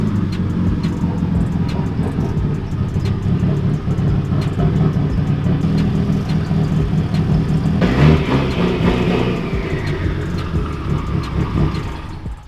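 A Mitsubishi Evo 10 fitted with a T51R turbo revs with a deep rumbling engine drone that climbs around the midpoint, then settles back, loud and close with no talking.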